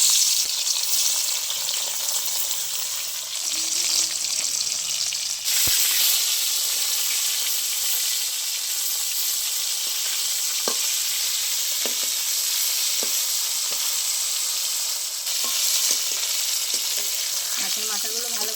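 Hilsa fish heads rubbed with salt and turmeric fry in hot oil, giving a loud, continuous sizzle and hiss. Occasional sharp crackles and pops come through as the pieces are stirred.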